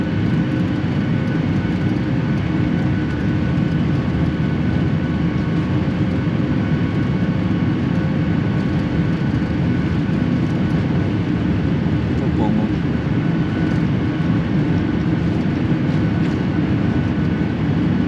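A loud, constant airplane engine roar fills the whole stretch during takeoff, steady and droning without pause, close and heavy, heard from inside an Air India flight.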